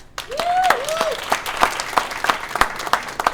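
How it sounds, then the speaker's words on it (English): A crowd bursts into applause, the clapping thinning to scattered individual claps, with a brief voice at the start. "let's give him a round of applause"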